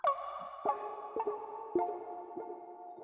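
Plucky synth notes ring out one after another, each struck note decaying with a spacious, echoing tail, soft and unaccompanied.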